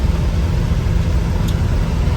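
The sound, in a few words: car driving on highway, road noise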